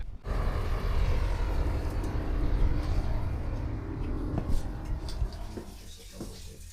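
A brand-new Hidea 9 outboard motor runs with a steady, low rumbling drone and engine noise throughout, moderately loud, with a few small knocks near the end and no speech.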